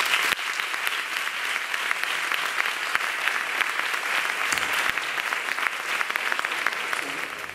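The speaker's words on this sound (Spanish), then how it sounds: "Un aplauso." A theatre-festival audience in Mairena del Alcor applauds steadily for the full stretch, a dense, loud wash of clapping with no voices breaking through.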